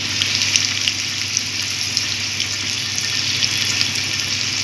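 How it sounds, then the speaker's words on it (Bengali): Potatoes fry in a pan for a Bengali cabbage curry, making an even, close sizzling hiss with small crackles that continues steadily without any talking. "দুই মিনিট ধরে আলুটা ভেজে নেব।"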